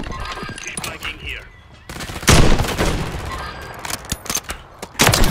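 Gunfire in a sniper shooter video game featuring the Kar98k rifle: a heavy shot followed by bursts of rapid fire and sharp cracks, loud and close, with voices talking over the action.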